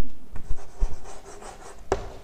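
Chalk or marker scratching on a board in a classroom English grammar lesson, a few short rubbing strokes and taps close by, with no speech.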